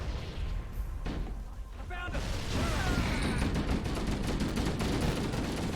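Pistol gunfire in a modded Halo video game, sharp shots that give way to a booming, explosive roar and a rapid run of repeated cracks, with a voice talking over part of it.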